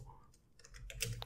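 Fingers typing code on a computer keyboard, a short quick run of soft, close key clicks at a low level.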